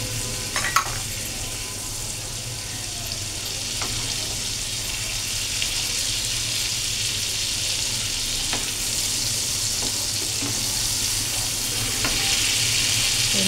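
Tomato puree frying for a Bengali fish curry sizzles steadily and loudly in a pan, a continuous hiss with a few faint clinks of stirring and no talking.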